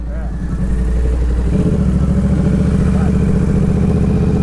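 A Honda Hornet motorcycle engine chugs and idles loudly close by, its rough low rumble steady throughout, with faint voices underneath.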